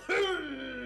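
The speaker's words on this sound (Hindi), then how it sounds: "अरे ये कौन खांस रहा है?" A single short human cough, close and fairly loud, starting with a sharp burst and trailing into a voiced tail.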